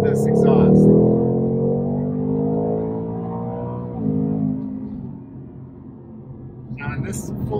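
Low exhaust rumble from a 2021 Ford Mustang Mach 1, a steady droning burble heard from inside the cabin with no voices over it, fading slightly toward the end.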